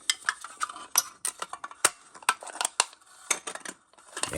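A CJRB Nanner knife cuts through an aluminum Zevia can, giving sharp metallic crinkles, scrapes and clicks in irregular bursts. The sounds are close and fairly quiet, with no talking.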